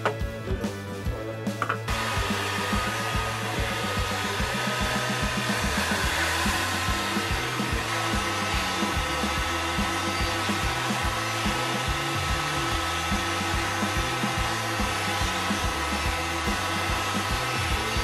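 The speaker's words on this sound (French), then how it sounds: "vous pouvez aussi utiliser un décapeur thermique pour chauffer cette zone, c'est ce que je vais faire sur une partie du tuyau" A heat gun blows a steady, loud whooshing drone while heating a plastic pipe to widen its end, preceded by a few seconds of a brief rougher start.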